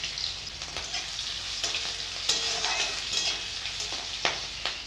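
Nigella seeds, a bay leaf, green chillies, chopped garlic and chopped ginger frying in hot oil in a heated kadai, a continuous bright crackling sizzle with scattered pops and stirring clicks, close up, with no voices.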